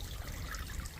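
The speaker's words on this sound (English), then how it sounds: "I tried to make it as quiet as possible because my best friend is really sensitive to the sound of water" Gentle trickling water from a small garden water feature set among flagstone and river rock, a steady soft dribble running close by for the whole moment with no voices.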